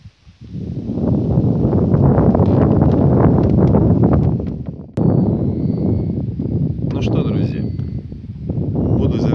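Strong gusting wind buffets the microphone outdoors while pike fishing, a steady low roar that dips briefly midway and then resumes, with rustling throughout.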